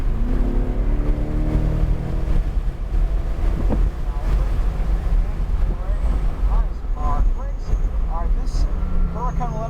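A C8 Corvette accelerates hard around the Atlanta Motorsports Park race track, its engine a steady roar buried under heavy wind buffeting while an instructor talks over it throughout.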